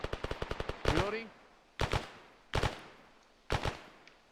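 Arma 3 suppressing fire: a rapid burst of about eight automatic shots, then three separate heavier bursts spaced about a second apart, close and sharp with short echoing tails, no talk over them.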